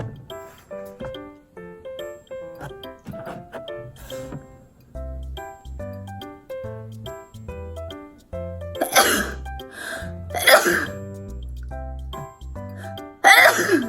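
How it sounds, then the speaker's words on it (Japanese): A run of repeated human sneezes, several loud bursts clustered late in the stretch and recorded up close, with quieter music playing underneath. "それが YouTube にて 3分間くしゃみでございます。"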